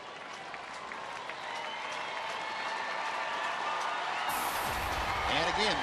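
Baseball crowd noise at a Rangers home game against the Astros, a broad sustained roar of fans cheering and clapping that builds steadily, with a voice talking over it.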